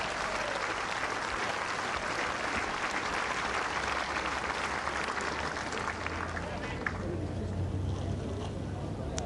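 Large crowd applauding steadily at the 1990 Bass Masters snooker final at the Woodland Hotel, a dense continuous wash of clapping that holds throughout, with a commentator's voice faintly underneath.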